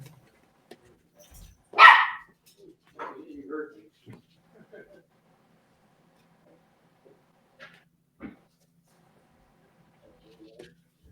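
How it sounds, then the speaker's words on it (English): A small dog gives a single loud bark, then a few fainter, scattered barks and yips farther back in an otherwise quiet room. "I've got a dog barking in the background."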